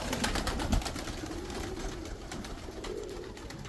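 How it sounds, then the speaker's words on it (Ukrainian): Old pigeons coo softly in low, rolling murmurs over a steady outdoor hiss, with faint ticking and rustling around them. "Старий голуб."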